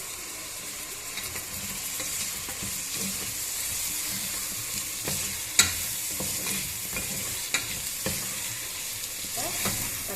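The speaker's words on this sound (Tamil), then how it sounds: "இப்போ நம்ம இதை கிளறி வச்சுக்கலாம்." Smashed tomatoes being stirred in a pan for Chennai-style biryani, with a steady sizzle and scattered scraping utensil strokes, a few sharper clacks standing out, no voices.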